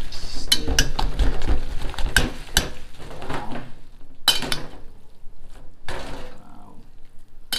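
Breakfast ingredients are mixed in a bowl at a home kitchen, with clattering utensil and dish knocks in irregular bursts, loud and close, some sharp clinks between softer scraping.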